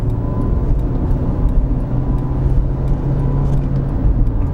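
A manual car engine pulls through the gears at high speed in traffic, revving up to around 4,000 RPM with a steady low rumble and road noise, loud and close inside the cabin.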